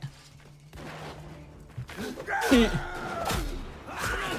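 Musket shots crack out in the Mount & Blade game with the Empires of Europe 1700 mod, a few sharp, scattered reports of moderate loudness over a busy battle din.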